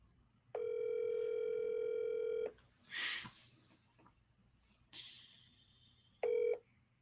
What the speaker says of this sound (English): Let me get Theo on the phone.